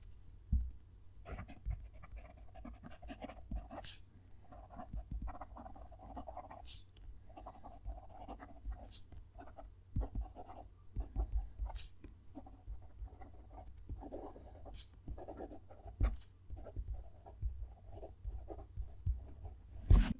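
A Just Turnings Mimas fountain pen with a stub nib scratches faintly across paper in short, close strokes and pauses, with no talking.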